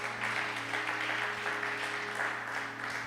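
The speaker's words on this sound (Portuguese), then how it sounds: "Quem declarou com fé, aplaude ao Senhor." A church congregation applauds during a bishop's sermon, a soft, continuous wash of many hands clapping over a steady low hum.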